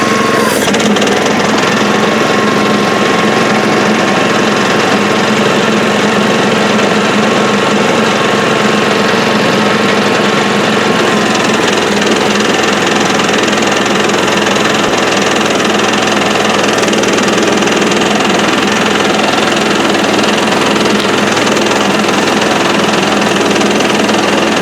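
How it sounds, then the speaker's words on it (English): Loud mower engine running steadily on a farm while cutting thick hay, a continuous, rough, close-up drone that holds throughout with no speech. "I'll show you what it's like to mow this hay because it is so thick"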